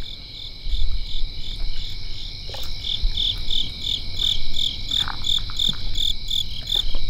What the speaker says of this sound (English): Some loud ass crickets, bro.